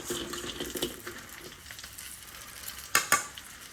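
Oil sizzles and crackles steadily in a pan as a fish fries, with a couple of sharper pops and clatters near the end; no voices.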